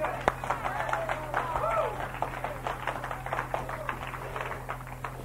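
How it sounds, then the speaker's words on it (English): A church congregation claps hands together, a dense run of quick claps blending into applause-like patter under a voice speaking over it. "Give God a hand clap."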